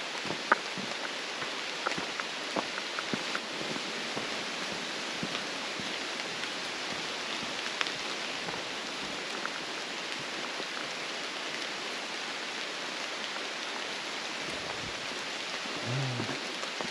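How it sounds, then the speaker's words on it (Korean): Steady rain patters on leaves in a mossy forest valley, a soft, even hiss of drops with scattered closer taps, continuous and fairly faint, with no voices. "빗방울이 이렇게 나뭇잎에 토닥토닥 떨어지는 소리가 참 운치가 있습니다"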